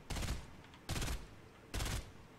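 Gunfire in the Fortnite video game comes as three evenly spaced bursts, each a short rattling volley of rapid shots, fairly faint overall with quiet gaps between them.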